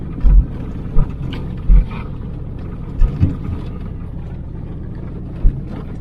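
A car drives along a dirt road on a Greek island, its low engine rumble and tyre roar steady and close inside the cabin, with occasional bumps and thuds from the uneven surface.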